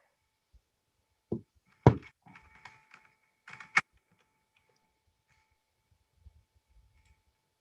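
A handful of keystrokes on a computer keyboard during a board meeting: short, soft taps bunched into a couple of seconds, then near silence.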